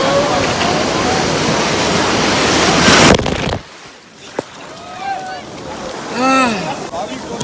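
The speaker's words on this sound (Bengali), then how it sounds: "চলো চলো, বড় বড় বড় ঢেউ আসছে" Big sea waves break loudly on Digha beach, a dense roar of surf for about three seconds before it drops away, followed by quieter wash with people's voices calling out nearby.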